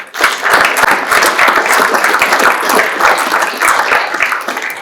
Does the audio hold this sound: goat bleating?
no